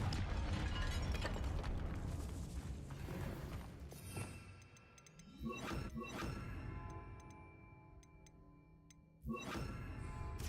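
A blasting spell explodes in the fantasy video game Hogwarts Legacy, a rumbling crash followed by clattering debris and mechanical ticking, with sharp bursts returning later and no talking.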